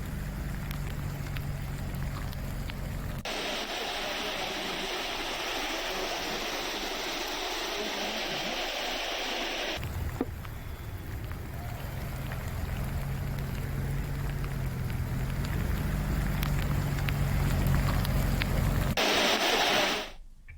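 Floodwater rushing through streets after heavy rain makes a steady, broad roar of flowing water that holds throughout, shifting in texture midway and cutting off at the end, with no voices.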